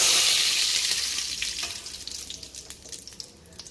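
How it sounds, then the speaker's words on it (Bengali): Mustard seeds and curry leaves sizzle and crackle in hot white cooking oil, loud at first and gradually settling, with sharp pops scattered through the close, steady frying hiss. "কারি পাতা সর্ষেটা ভাজা ভাজা হয়ে গেছে"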